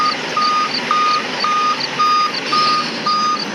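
Steady reversing beeps repeat in an even rhythm from a bus in a bus simulator video game, each short tone sounding over a constant low engine hum with no voices.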